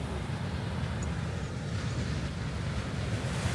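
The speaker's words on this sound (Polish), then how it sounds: "Morze Karaibskie." Caribbean Sea surf washing onto a remote, little-visited beach reached through jungle at night, a steady continuous roar of waves with wind rushing across the microphone and no voices.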